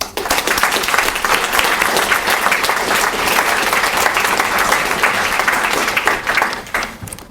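A large lecture audience at BYU applauds to welcome Professor Parker, a dense, loud, sustained wash of clapping hands lasting several seconds before tapering off at the end.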